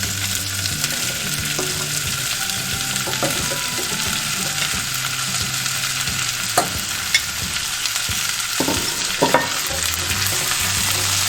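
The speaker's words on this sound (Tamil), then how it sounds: "ரெண்டையும் வந்து போட்டு வதக்குவோம் அடுத்ததாக உருளைக்கிழங்கு போடுறேன் அடுத்து அஸ்பராகஸ்" Potato and asparagus sautéing in a pan, a steady close sizzle and crackle throughout with occasional clinks and stirring scrapes of a utensil, and no talking.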